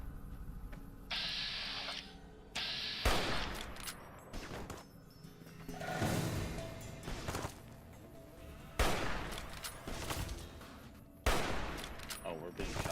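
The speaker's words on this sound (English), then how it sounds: "Oh, we're being shot from behind." Gunfire in Fallout New Vegas, several loud cracking bursts of shots arriving at irregular intervals amid in-game ambience, with a voice briefly heard between them.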